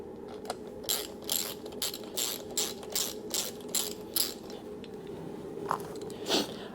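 Hand ratchet snugging down bolts on a race-built Kawasaki ZX10R engine, a steady series of crisp clicking bursts in quick rhythm, close and clear with no talking.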